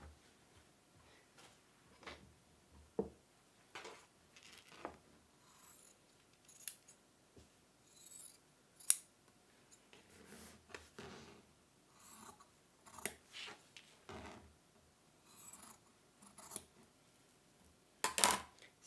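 Scissors and small tools handled on a sewing table while making a slouchy velvet bag, giving quiet scattered clicks, taps and rustles with one or two sharper metallic snips, close by and with no talking.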